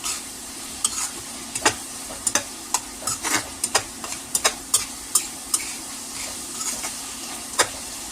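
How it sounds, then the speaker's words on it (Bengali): Beef with spices fries in a covered pan, giving a steady sizzle beneath scattered sharp ticks and pops from the lid and stirring, close and fairly loud. "এখন সব মশলা দেওয়ার পর খুব ভালোভাবে ঢাকনা দিয়ে ঢেকে আমরা প্রথমে হচ্ছে 5 থেকে 7 মিনিটের মতো কষিয়ে নিব।"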